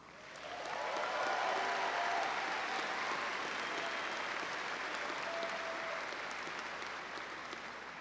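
A commencement audience at Wentworth applauds faculty and staff, the clapping rising quickly into a full, dense roar that holds steady and then slowly thins toward the end.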